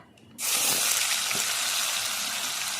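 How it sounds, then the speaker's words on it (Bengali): Nigella seeds and onion paste drop into plenty of hot oil and burst into a loud, sudden sizzle. The frying then holds as a steady, bright crackle close by. "তেলের উপরে দিয়ে দিচ্ছি কালো জিরে ফোড়ন পেঁয়াজ বাটা"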